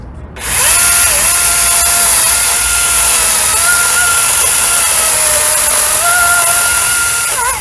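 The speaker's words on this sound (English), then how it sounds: "The bigger side, we're going to go ahead and try the DeWalt since it seemed to outpower the RYOBI just a little" A DeWalt battery chainsaw cuts through a log up close, its loud, high electric whine holding steady for about seven seconds, dipping briefly under load before revving back up near the end.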